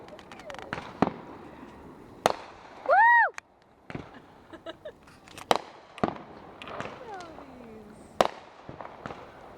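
Fireworks bursting near a high school, sharp scattered bangs with a rising whistle as one shoots skyward, some pops distant and echoing, while people talk nearby.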